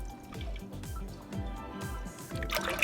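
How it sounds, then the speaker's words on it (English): Half a gallon of milk pours into a cooking pot, a quiet liquid gurgle with rapid glugging pulses from the jug, close and alone. "I'm gonna pour half a gallon of milk into this pot"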